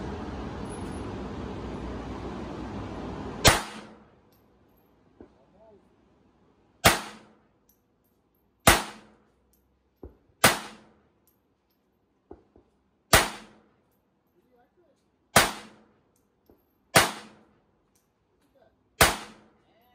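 Eight sharp, loud gunshots from a Browning 1911 Black Label .380 pistol, fired one at a time at uneven intervals of a second or two, each crack followed by a short decaying echo, after a stretch of steady background noise.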